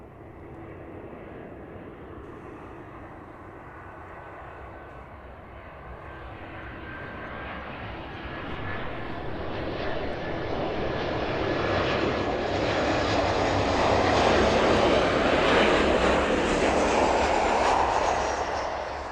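A passenger airliner lands at East Midlands Airport in the evening, its jet engine roar rising steadily from a moderate rumble to a loud, broad whoosh that peaks near the end. The noise is heard alone from close by the runway.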